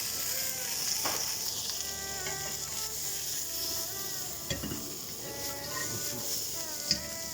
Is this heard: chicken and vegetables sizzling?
yes